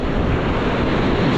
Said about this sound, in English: It's real hard to stay down here with all the waves breaking around you.